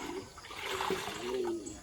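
Water poured out of a container and refilled at an outdoor camp in Mindanao, a continuous splashing, trickling gush with gurgles, fairly close and steady for about two seconds with no talk.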